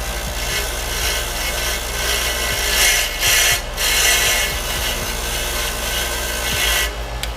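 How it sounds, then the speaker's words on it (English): A wire brush scrubs powder-coated threads clean on a Nissan Skyline GTR trunk gas strut fitting, producing a steady, close rasping scrape that continues for several seconds with faint knocks and no talking. "what I'm actually going to do real quick is clean the threads off"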